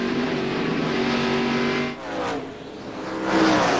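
NASCAR stock cars racing at the 2002 New Hampshire 300, loud engine roar close by as cars pass, the pitch dropping and shifting between passing machines with a continuous dense drone.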